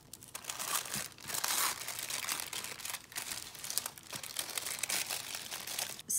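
Tissue paper crinkles and rustles continuously up close as a washi tape set is unwrapped, with brief pauses between bursts of crumpling.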